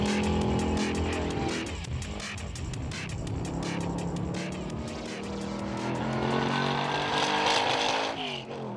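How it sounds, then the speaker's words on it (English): A 1969 Chevrolet Corvette 427 with triple Holley carburetors thunders around the Taupo Motorsport Park circuit during a track day, its big-block V8 roaring loud and close, rising and falling through gear changes, with tire noise and faint voices. "It's a 69 Corvette"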